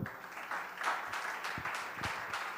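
Church congregation applauding, a soft, somewhat distant spread of clapping with a few louder individual claps standing out, fairly quiet throughout.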